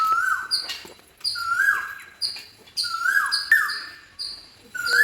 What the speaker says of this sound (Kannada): ಎಷ್ಟು ಚೆನ್ನಾಗಿ ಕೋಗಿಲೆ ಕೂಗ್ತಾ ಇದೆ ನೋಡಿ.